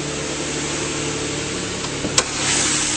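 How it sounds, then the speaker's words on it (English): A 4-liter engine in a 2008 Nissan Pathfinder idles smoothly under the hood, a steady low hum throughout with a brief faint click near the end. "4-liter engine running nice and smoothly"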